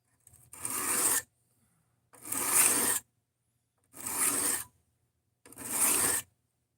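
A knife blade is drawn across a cheap $7 Harbor Freight sharpening block in four separate, evenly spaced strokes, each a close, gritty rasping scrape followed by a moment of silence.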